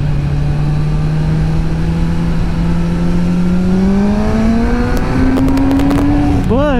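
A Kawasaki Ninja ZX10R sport bike engine climbs in pitch as it accelerates out of a turn, a loud, close, rising whine that builds smoothly and ends in quick throttle blips.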